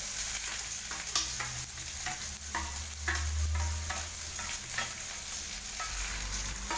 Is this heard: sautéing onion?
yes